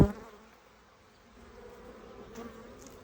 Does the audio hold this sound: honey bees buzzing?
yes